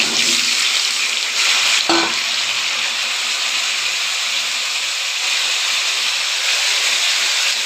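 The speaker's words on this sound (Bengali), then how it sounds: "পনির ভাজা তেলের মধ্যে আলুগুলো ভেজে নেব" Potatoes frying in oil left over from frying paneer, a steady loud sizzle that holds for the whole stretch, with one brief knock partway through.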